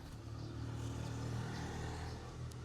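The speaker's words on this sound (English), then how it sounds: "sorry for the motorbike, moped, scooter noise" A motorbike, moped or scooter engine drones steadily outside at a moderate distance, a continuous low hum with no talk over it.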